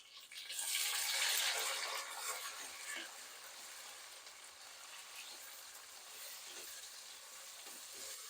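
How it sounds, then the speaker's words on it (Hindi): Finely chopped tomatoes frying with spices in a pan for mixed vegetable pulao, a loud burst of bright sizzling as they hit the oil that settles into a softer steady hiss. "2 टमाटर बारीक कटे हुए डाल रही हूँ मैं। टमाटरों को भी फ्राई करेंगे।"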